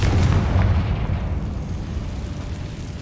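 A Confringo explosion spell cast in the video game Hogwarts Legacy lets out a heavy, rumbling blast that stays loud and booming for about three seconds, with no talk over it.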